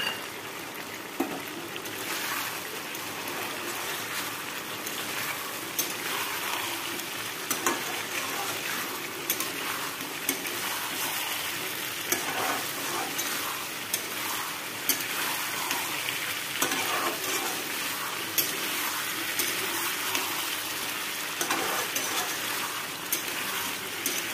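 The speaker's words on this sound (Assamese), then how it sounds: "মছলাখিনি মই ভালদৰে সানি দিম গোটেই আলু কোমোৰা মাংসত" Masala is stirred into a sizzling pot of duck curry with pumpkin and potatoes. Steady frying hiss runs throughout, broken by repeated scraping and clattering strokes of the spoon, with no talk.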